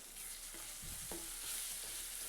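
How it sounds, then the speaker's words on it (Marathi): A spice mixture with onion and tomato sautés in oil with a soft, steady sizzle, interrupted by a couple of quiet stirring scrapes, close and fairly faint, with no talking. "हे सर्व मिश्रण एकत्र करून छान असं तेलावरती आणि कांद्या टोमॅटो सोबत छान भाजून घ्यायचं"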